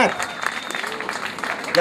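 An outdoor backyard concert crowd applauds, steady clapping throughout with a few whistles, fairly close and loud, and a voice talking over part of it.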